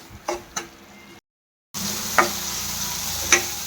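Pineapple frying in ghee with rava in a home kitchen, a soft steady sizzle with a few sharp taps and stirring clinks, broken by a short gap of silence.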